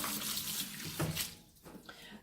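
Warm water rushes from a tap into a clean pot to cover strained beans, a steady hissing splash that briefly thins before resuming, with a voice talking over it.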